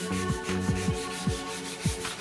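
A lacquered motorcycle headlight is wet sanded with 360-grit sandpaper, giving a steady close rubbing hiss with a low hum and several faint squeaky strokes at an uneven rhythm.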